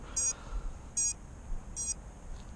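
A small beeper mounted by the camera on a hobby drone gives three short, evenly spaced high-pitched beeps under a faint background hiss.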